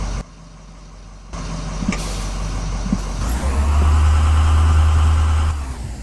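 A bus engine runs while driving, a loud steady mid-low drone that swells and intensifies partway through, with a sharp air-brake hiss near the start and mechanical rattles over it.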